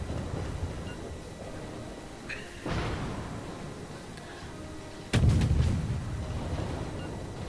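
Naval gunfire and shell hits in the World of Warships video game: a distant boom, then a couple of sharp cracks near the middle, and a heavier, louder blast late that rumbles on, with no talk.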